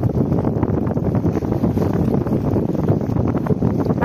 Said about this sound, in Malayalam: ആ എന്താ കടൽക്കാറ്റ് എന്നോ, നല്ലൊരു സുഖം